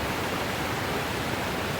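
A small river flows near a lake along a hiking trail near Anchorage, Alaska, giving a dense, steady, close rush of water with no breaks.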